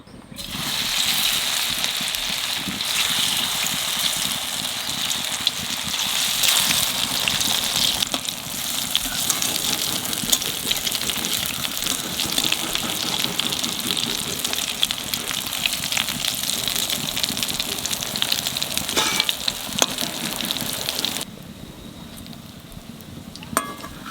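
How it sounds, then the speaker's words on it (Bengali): Pieces of papad deep-fry in hot oil until red, making a loud, unbroken bubbling sizzle for about twenty seconds before it drops to a softer crackle. "পিস পিস করে কাটিয়ে নিছি, মানে তেলের মধ্যে দিয়ে লাল লাল করে ভেজে নেব"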